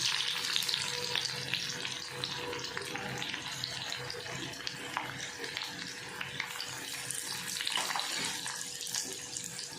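Garlic and onion fry in a pan for a tomato chutney, a steady broadband sizzle running throughout with faint scraping, no talking.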